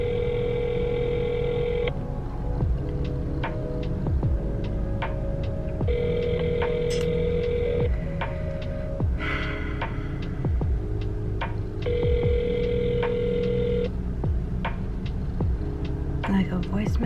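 Telephone ringback tone on an outgoing call, a repeating two-second ring pattern with pauses, heard steadily over dense background music.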